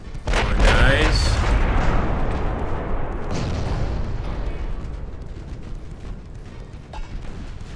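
Naval gunfire in the warship game Ultimate Admiral: Dreadnoughts, heavy booming shots that burst loudly and then roll away into a long fading rumble, with a voice talking over it.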